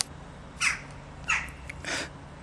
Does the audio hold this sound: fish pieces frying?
no